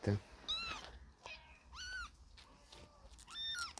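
Kittens three weeks old mewing in high, thin repeated cries, several short calls spread across a few seconds, close by on a farmstead with some background rustle.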